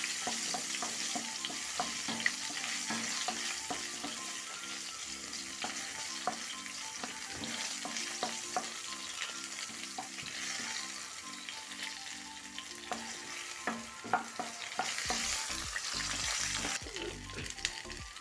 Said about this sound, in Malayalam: ഒരു കുഞ്ഞ് നെല്ലിക്കയുടെ വലിപ്പങ്ങൾ പുളിയും കൂടെ ഇതിൽ കൂടെ ചേർത്ത് കൊടുക്കാം ഇതുപോലെ അഞ്ച് വത്തൽ മുളക് കൂടെ ചേർത്ത് ഇളക്കാം